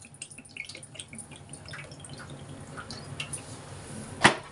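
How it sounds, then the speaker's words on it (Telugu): Cooking oil pours into a small pressure cooker on a lit gas stove, giving a soft, faint trickling hiss with scattered light ticks and drips and a brighter splash near the end. "ఇప్పుడు ఆయిల్ పోసుకుందామండి"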